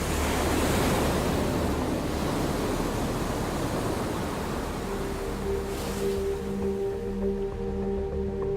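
White surf of ocean waves off the Aleutian coast, a broad steady roar that eases after a few seconds as low tonal music rises beneath it.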